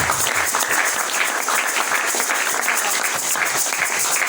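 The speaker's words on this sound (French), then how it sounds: "Est-ce que je peux entendre de fortes acclamations pour la gloire de Dieu?" Dense, steady crowd applause and cheering from a church congregation, loud and sustained without pause, filling the whole stretch with broadband clapping noise.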